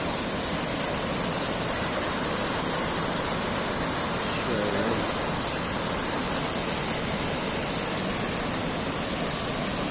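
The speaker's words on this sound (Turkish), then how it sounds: "Bu şelalenin ilginç özelliği yaz ve kış aynı şekilde akması" A steady, loud rush of falling water from Yerköprü Waterfall in Turkey roars continuously, dense and unchanging throughout, with no other sounds standing out.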